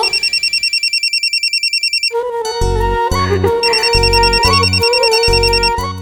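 A telephone rings in a quick repeated electronic trill, then gives way to a loud ringtone melody with a heavy beat that plays on to the end.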